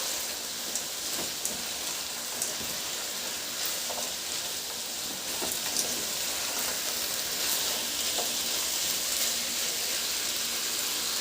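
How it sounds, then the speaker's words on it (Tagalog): Fried tofu returned to a pan of pork simmering in reducing soy and oyster sauce, giving a steady close sizzle with faint scraping stirs and no talk. "Ibalik ko na yung piniritong tokwa."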